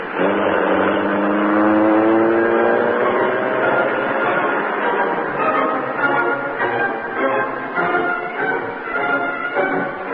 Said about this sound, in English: The doors slammed, the motor roared.